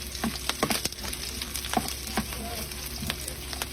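Garlic sautéing in rendered pork belly fat in a pan for paksiw na bangus, a steady close sizzle with scattered crackles and a few scraping stirs.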